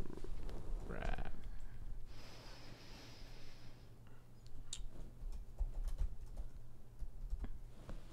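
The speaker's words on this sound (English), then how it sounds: "I'll type that on up in here." Quiet computer keyboard typing taps along in irregular bursts near the microphone, with a brief rustle and low background noise.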